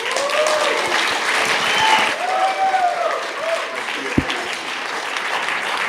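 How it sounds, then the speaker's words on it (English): Wedding reception guests applauding, a warm burst of clapping with scattered cheers and voices mixed in, fairly close, thinning slightly toward the end. "Ladies and gentlemen, one more big, big round of applause for the best men, Peter Gaffari and Cliff Hyman."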